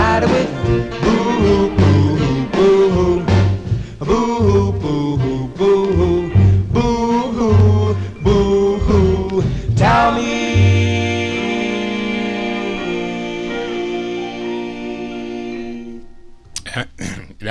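A 1955 doo-wop record with saxophone: a steady rhythmic backing of bass and drums under horn lines builds to a long sustained chord, then cuts off abruptly.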